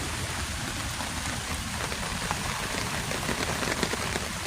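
Steady rain patters on a tent during a stealth camping trip in the woods, a dense, even hiss of drops with scattered louder taps, close and continuous throughout.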